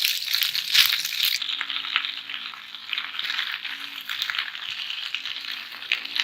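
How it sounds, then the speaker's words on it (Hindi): Food frying in a pan for rainbow pasta, a steady close sizzle with bright crackle and occasional stirring taps, no voices. "बस इसको भी 2-1 मिनट ही फ्राई करना है, ज़्यादा नहीं करना"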